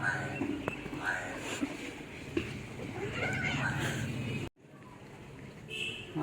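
A pet cat meows repeatedly at close range in a home, with soft human voices talking around it. After a brief cut there is a short stretch of quieter sound.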